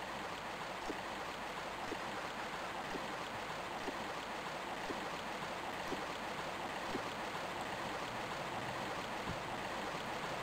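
Running water in Tomb Raider 1 Remastered, in The Lost Valley level: a steady, even rush of flowing stream water that fills the whole stretch without breaks, with no talk over it.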